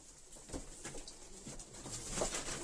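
Pigeons in a loft give faint, soft cooing and fluttery patter against a quiet background, low and brief in the mix.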